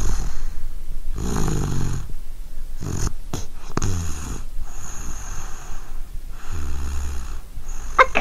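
A voice imitates a child snoring while asleep, with loud, rasping snore bursts repeating in a steady rhythm close to the microphone and short quiet gaps between them.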